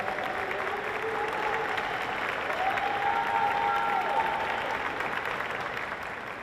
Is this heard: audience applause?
yes